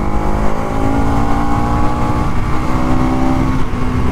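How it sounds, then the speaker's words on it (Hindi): Exhaust note of a 2024 Bajaj Pulsar NS200 motorcycle while riding, a loud steady engine drone with a humming tone holding level and no voices over it. "और एग्जॉस्ट नोट आपके कानों तक आने वाला है"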